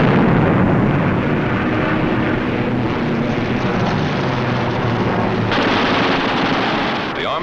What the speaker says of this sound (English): With the touch of the finger on the stick, a camera and 8 machine guns are put into action.